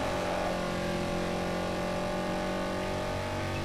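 Mercedes C63 AMG engine in a racing video game, a steady, fairly quiet mid-pitched engine drone holding a constant tone without voices.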